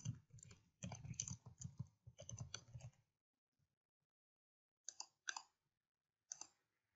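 Keys clatter on a computer keyboard in quick close bursts of typing. A quiet pause follows, then a few last isolated taps.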